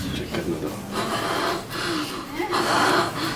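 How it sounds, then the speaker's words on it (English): A patient takes a deep breath in and out during a chest examination, the airy inhale and exhale audible in slow waves close to the listener amid faint room noise. "Deep breath in and out."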